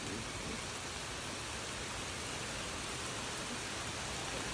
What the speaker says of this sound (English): This thunderstorm is currently producing some heavy rain here and some gusty winds